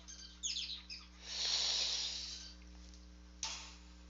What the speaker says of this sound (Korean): 집에서 키우는 새들이